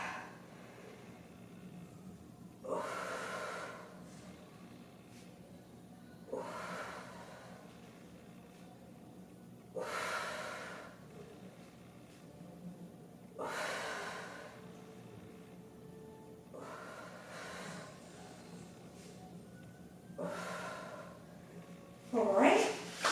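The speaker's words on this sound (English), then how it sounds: "Make sure you're breathing" Heavy exhales recur every few seconds during a dumbbell upper-body strength workout, sharp close breaths standing out from a quiet background with no talk.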